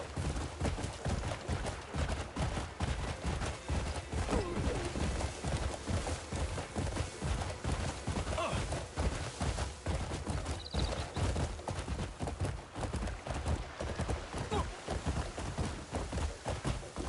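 Horse hooves clip-clop in a steady, continuous rhythm, close and clear, with a faint whinny partway through.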